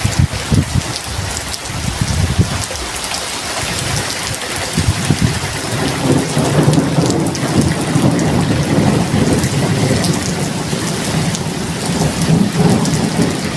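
Heavy thunderstorm rain pours steadily throughout, with deep rolling thunder rumbling low beneath the downpour, loud and close.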